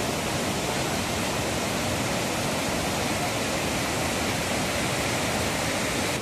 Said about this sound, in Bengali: তো এই হচ্ছে ফল, জলের বিশাল তোড় আছে এখন, বর্ষাকাল।